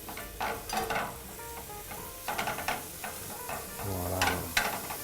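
Ingredients for a tartiflette cook in a dry frying pan with no fat, giving a soft sizzle broken by intermittent scraping stirs, close and moderately loud.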